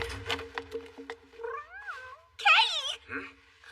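A cat gives several clear, rising and falling meows, close and fairly loud, with short pauses between calls and a little speech-like sound early on.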